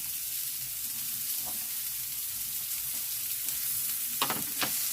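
Carrots frying in a pan for a warm eggplant salad give a steady, close sizzle throughout, with a few brief clicks of stirring near the end.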